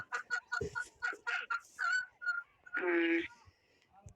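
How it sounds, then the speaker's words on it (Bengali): Ducks quack close by in a string of short, nasal calls with uneven gaps, ending in one longer, drawn-out honk. "হাঁসে ডাকতেছে"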